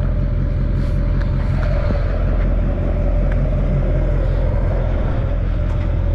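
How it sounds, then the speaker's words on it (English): Traffic drives across a busy bridge in a continuous low rumble and roar, loud and steady throughout, with faint higher tire hiss passing over it and no talking. "So many cars, I'm fishing on a crazy bridge."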